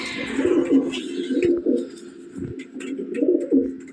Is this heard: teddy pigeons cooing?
yes